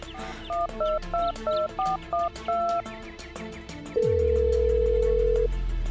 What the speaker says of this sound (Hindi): अपने घर के लॉन में पहुंचते ही उसने अपने मोबाइल से कॉल लगाई